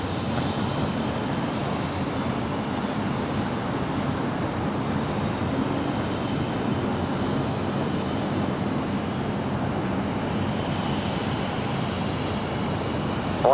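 A heavy Boeing 747 departing LAX at night, heard as a steady, broad jet roar that holds at an even level throughout, distant and continuous with no talk over it.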